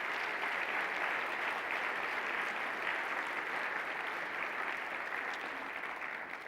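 Steady, sustained audience applause fills a convocation hall at UMass Boston, a dense wash of clapping holding level for several seconds before tapering slightly at the end, with no talk over it.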